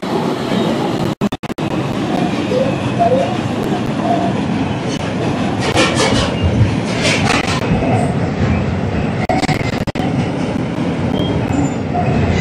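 An R142 subway car on the Eastchester-bound 5 local rolls along with a loud, constant rumble and clattering wheels, occasional squeals and sharp clicks from the track, heard from inside the car.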